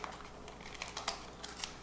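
Scissors snip the corner off a double-layered plastic wine kit bag, a quick run of crisp cuts and crinkles, close and fairly quiet.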